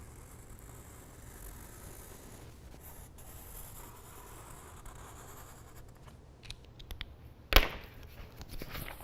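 A pencil draws a dark line on paper, a faint, soft scratching close by over a low background hum, ending with a brief sharper scrape and knock near the end.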